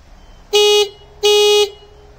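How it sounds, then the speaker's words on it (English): Two loud, steady horn blasts from a Bobcat T66 skid steer loader, each about a third of a second long, separated by a short pause, with quiet background otherwise. "So the horn honks."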